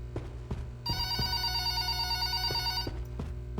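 A telephone rings in a horror video game: one long, bright electronic bell ring lasting about two seconds, with soft footstep-like thuds before and after it.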